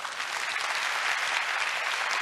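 An audience at a lecture breaks into dense, steady applause, many hands clapping evenly and loudly throughout.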